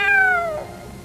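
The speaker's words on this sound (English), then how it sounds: "It was still meowing." A soaked, struggling cat gives a single clear meow that falls in pitch, close and alone with no talk over it.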